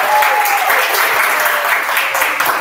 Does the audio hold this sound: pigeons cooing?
no